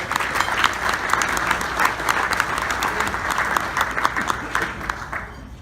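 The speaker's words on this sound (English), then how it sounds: "Let's give all these individuals one more big round of applause." Ceremony crowd breaks into a long round of applause, many hands clapping in a dense, sustained roar with individual sharp claps popping out, tapering slightly near the end while murmurs of voices run underneath.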